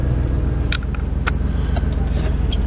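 A rusty Dodge pickup truck with a steady engine drone and road rumble as it accelerates along a straightaway, with a few faint clicks and knocks over the continuous hum.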